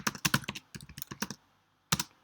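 Close typing on a computer keyboard, a quick run of crisp key clicks followed by a short pause and then a final pair of keystrokes.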